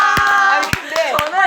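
A few close, sharp hand claps ring out in a studio podcast setting, brief uneven slaps mixed with voices talking over them.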